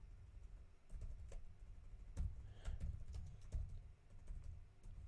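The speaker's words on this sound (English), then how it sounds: "Just typing this out now." Typing on a computer keyboard, heard up close as a quick irregular run of soft key clicks and taps, fairly quiet, with no talking over it.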